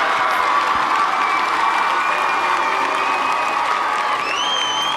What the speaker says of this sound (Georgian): დარბაზის აპლოდისმენტებით გავამხნევოთ გუნდები